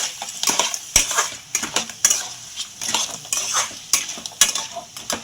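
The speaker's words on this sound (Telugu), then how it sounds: "ఒక గరం మసాలా చక్కగా కలుపుకోవాలి ఇలా" Garam masala being stirred into crab curry in a pot, sharp metal spoon scrapes and clinks against the pot in an uneven rhythm over a soft sizzle, close and clear.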